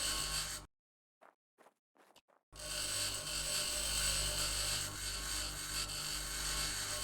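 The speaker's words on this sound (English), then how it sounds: "I love how this grinder scraps. It does things so much faster." A grinder scraps an object in the Occupy Mars game, giving a loud continuous grinding whine that runs on for several seconds after a short break of near silence.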